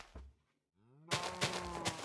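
A Minecraft cow gives a short low moo, followed by a louder, clearer drawn-out moo lasting about a second.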